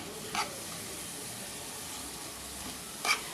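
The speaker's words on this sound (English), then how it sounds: "stir it further while breaking it into small pieces" Minced beef and spring onions fry in a pan for a beef samosa filling, giving a steady soft sizzle broken by two brief scraping stir strokes, close and with no talking.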